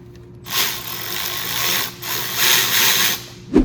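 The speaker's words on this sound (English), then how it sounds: "I'm just gonna tighten the bolts for now." An M8 triple square bit on a ratchet tightens transmission bolts on an MK4 Jetta TDI during a transmission swap, making loud, close, rasping mechanical bursts with short pauses and a sharp clank at the end.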